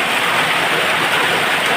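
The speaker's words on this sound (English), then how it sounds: "And it is raining cats and dogs." Heavy rain pours down on a farm in a dense, loud, unbroken hiss with no talking.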